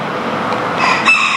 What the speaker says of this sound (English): there's a rooster around here somewhere you can hear